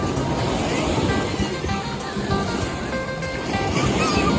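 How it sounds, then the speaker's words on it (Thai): Sea waves wash continuously onto Bangsaen beach in Chonburi, a loud, steady surf roar mixed with gusty wind rumble against the microphone. "รู้สึก คลื่นมันซัดขึ้นมาค่ะ"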